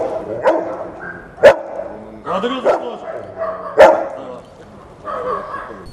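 A border guard dog barks several times in sharp, loud bursts, with whimpery yips between them and a person talking nearby.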